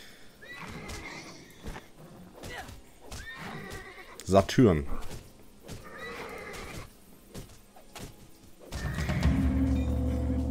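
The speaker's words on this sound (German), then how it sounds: "Hier ist das Pferd." In the Titan Quest video game, a horse neighs and whinnies several times, with clip-clop hoofbeats and a low rumble near the end. A voice speaks German between the calls.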